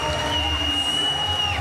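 A crowd cheers at a women's up to 55 kg Para powerlifting competition, a dense, sustained roar of many voices filling the whole stretch.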